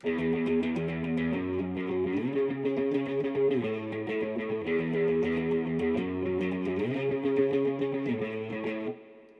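Electric guitar with distortion and effects plays the chorus chord progression of a song, sustained, full chords changing every couple of seconds, steady and loud throughout.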